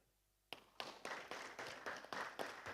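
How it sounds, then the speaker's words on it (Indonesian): Brief applause in a lecture hall at a Sulawesi Barat library talk: a handful of sharp, separate claps start after a short pause and repeat at a slow, uneven pace, fairly faint and with no voices. "Tepuk tangan dulu."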